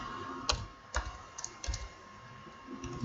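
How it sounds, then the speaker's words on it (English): Soft computer keyboard typing: a handful of separate key clicks spaced irregularly over a faint steady background hum, quiet and close. "Okay, I'm going to type Frank James"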